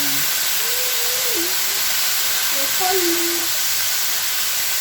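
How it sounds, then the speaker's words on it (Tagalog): Washed, sliced cabbage sautés in a hot pan, giving a steady, even hiss of steam and sizzle that holds for the whole stretch, with a few faint tonal wisps above it. "Pwede na natin ilagay yung ating ginayat na repolyo na hinugasang mabuti."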